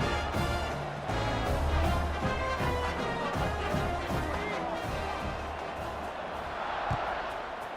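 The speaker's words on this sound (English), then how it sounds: "this crowd is buzzing after that last score" A football video game stadium crowd buzzes after a score, a dense, loud, continuous roar of cheering and shouting with a commentator's voice running underneath.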